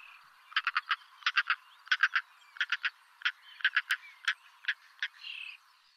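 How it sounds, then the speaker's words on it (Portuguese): A European roller calls in a run of harsh, rasping croaks. They come in quick clusters of two to four notes, clear and alone, with no voices. "Tenho aqui só para vocês ouvirem o som de um rolheiro, são muito característico este som."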